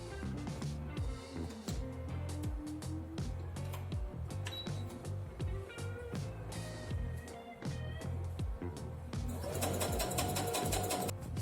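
A sewing machine runs steadily while hemming upcycled clothing with a half-inch seam allowance, its rapid mechanical stitching continuous and close, speeding up near the end.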